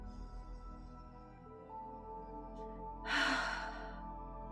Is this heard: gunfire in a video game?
no